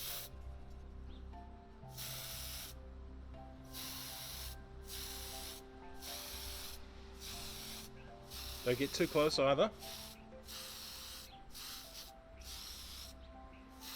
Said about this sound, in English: Let's give them short sprays and just keep maneuvering gentle swipes down.